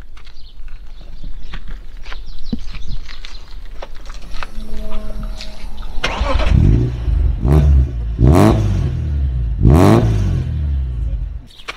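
A BMW M3 E30 with a swapped S50B32 engine cranks and fires up, then revs hard several times in loud bursts, each surge climbing and falling back to a rumbling idle.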